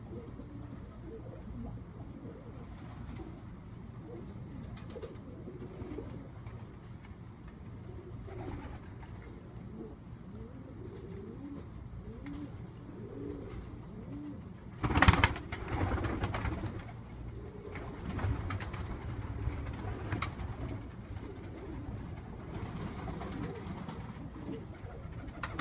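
Pigeons coo softly and steadily in a loft, with a sudden louder burst of flapping or handling noise midway, then the low cooing carries on.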